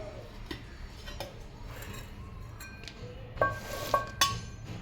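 A new steel kitchen box with a lid being opened, giving light metallic clinks, taps and scrapes, close and fairly quiet, with a few sharper rings of steel toward the end.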